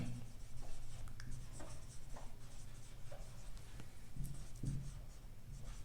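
Pen or marker writing out a math solution, steady scratchy strokes with occasional taps, close-miked over a constant background hum, no talking.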